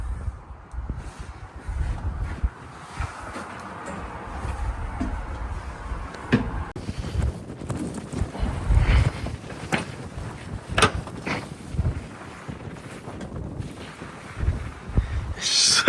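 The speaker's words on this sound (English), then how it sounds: "So windy." Gusty wind blowing around a long-abandoned old ship, rough buffeting and rumbling against the microphone with scattered knocks and creaks, continuous and fairly loud.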